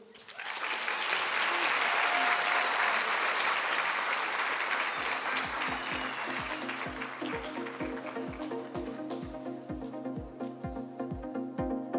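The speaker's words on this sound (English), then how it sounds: "let's have another round of applause and show our gratitude to our incredible educators" A large audience at a school district honors night applauds educators: a full roar of clapping that rises quickly, holds, then thins, while a steady rhythmic thumping beat emerges underneath in the second half.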